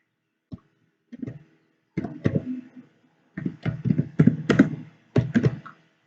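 A group name is typed on a computer keyboard, heard up close as quick clusters of crisp key taps in short bursts with brief pauses between them.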